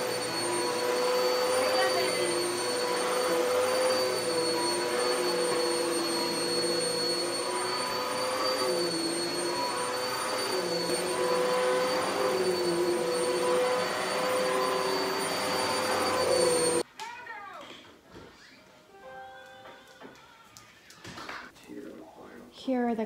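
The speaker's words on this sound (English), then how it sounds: "none of my vacuum cleaners have ever done this" A vacuum cleaner runs steadily over dog-hair-covered carpet, a loud high whine with strong tonal hum held close for most of the stretch, then cuts off abruptly, leaving a quieter room where a person talks.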